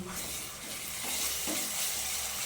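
Ginger paste fries in an oil-filled pan for a gongura chicken curry, giving a steady close sizzle with soft stirring scrapes throughout and no voices.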